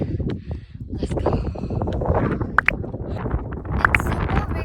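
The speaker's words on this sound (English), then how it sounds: "It's super windy here" Strong wind gusts roar and buffet the microphone on a rooftop in the Agafay desert near Marrakech, Morocco, at sunset, steady and loud throughout with brief bumps and a few faint voices.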